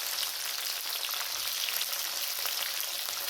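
Onion and capsicum fry in a hot pan with cumin, a loud, continuous close sizzle with a fine crackling hiss, unbroken and with no voices.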